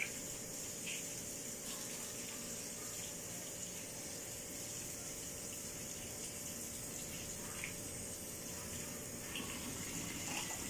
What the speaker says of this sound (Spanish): procedemos a enjuagar un poco la esponja